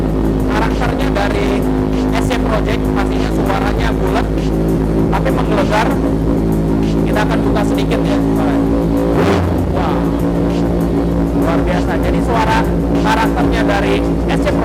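A Kawasaki Z1000 with an SC Project exhaust idles and revs indoors in a loud, deep, rumbling burble with repeated throttle blips, while someone talks over it.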